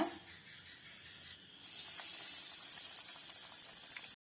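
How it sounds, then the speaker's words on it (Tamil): A cheese ball dropped into hot oil for deep-frying, the quiet bubbling jumping to a loud, steady, bright sizzle partway through that carries on to the end. "இப்ப எண்ணெய் வந்து நல்லாவே சூடாயிருச்சு. இப்ப ஒரு சீஸ் பாலா மெதுவா போடுங்க."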